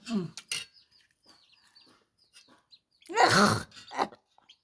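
Chickens cluck in a few short bursts, one louder flurry of squawking midway, with quiet gaps between calls.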